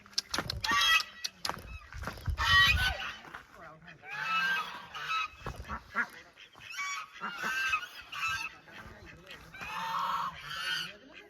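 Ducks at a village pond give repeated loud honking quacks in bursts, some overlapping, fairly close, with occasional voices in the background.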